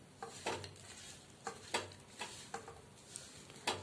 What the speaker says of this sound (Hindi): इसको हम चलाते जाएंगे लगातार, नहीं तो ये नीचे से लग के जल जाएंगे।